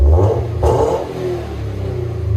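A 2020 Subaru BRZ with a 2.0L engine and PERRIN cat-back dual exhaust revs loudly and up close in two quick blips, giving a raspy bark that settles into a steady idle.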